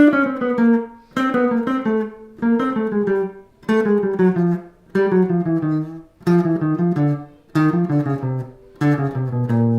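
Descending phrases of Barry Harris's chromatic scale in thirds sound as clear, close note runs on a pitched instrument, grouped in short bursts separated by brief pauses, with no voice.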